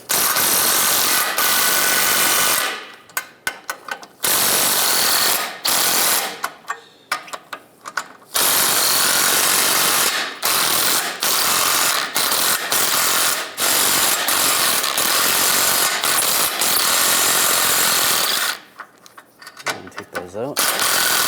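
A ratchet with a 13mm socket backs out strut mount bolts on a 1998-2010 Volkswagen Beetle. Rapid, close clicking runs in bursts, breaking off in short pauses, with occasional talk over it.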